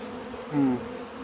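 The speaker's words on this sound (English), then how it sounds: "I'm just about to pour the last of the bees in the bucket into the hive." A steady honeybee buzz hums throughout during a bee removal, swelling briefly louder in the middle as if bees pass close by.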